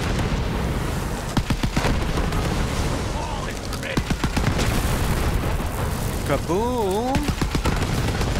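Combat in the shooter Borderlands 3: rapid gunfire rattles in quick bursts with booming explosions mixed in, close and loud throughout, while a voice talks over the fighting and a wavering electronic tone warbles near the end.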